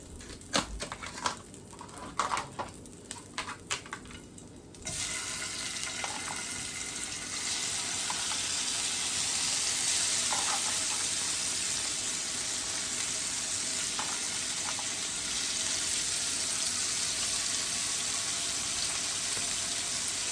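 Shrimp sizzles in a pan with cabbage and sausage, a loud, steady frying hiss close by. It starts after a few seconds of clatter and stirring and then holds constant, with no one speaking.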